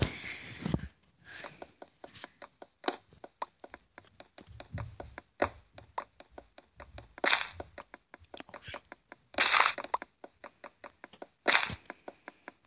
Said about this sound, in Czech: A uvidíte, jak sekám dřevo